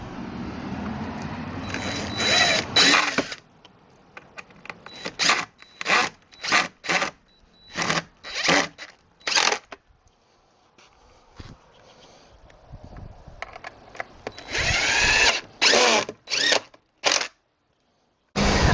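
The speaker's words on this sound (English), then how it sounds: "Now all I can do is just drive these screws in from underneath." A power drill drives screws up into porch railing boards from underneath, heard as a series of sharp, close whirring bursts. Longer runs come at the start and end, with quieter handling noise between.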